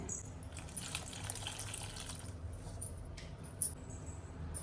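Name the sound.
water poured into a cooking pot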